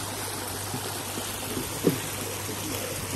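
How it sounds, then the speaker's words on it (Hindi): Sewage water from a drain pours steadily into the Ganges, a constant broadband rushing and trickling wash with one brief splash partway through. "नाले का पानी एक तरफ बह रहा है और गंगा जी का पानी एक तरफ बह रहा है।"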